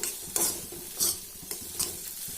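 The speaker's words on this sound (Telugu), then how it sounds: "చూడండి ఇట్లయితే మళ్ళీ ఒకసారి అయితే కలిపేసుకుందాము" Soya chunks and gongura leaves are stirred in a sizzling pan, with a spoon scraping in regular strokes about every half second over a continuous fry.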